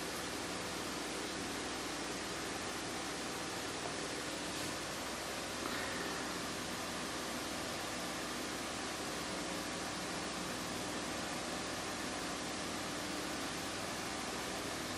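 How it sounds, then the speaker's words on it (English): An electric fan runs in a warm indoor room, giving a soft, steady whooshing hiss that stays constant throughout with no talking. "Did I mention I'm sorry about the fan?"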